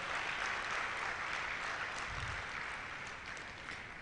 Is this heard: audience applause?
yes